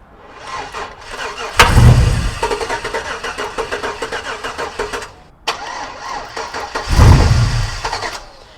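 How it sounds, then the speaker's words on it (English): An old pickup truck engine cranks and catches twice, each attempt a quick whirring crank that bursts into a rough, loud running engine before cutting out, close by. "All we need to do is just get it to spin enough to start the motor."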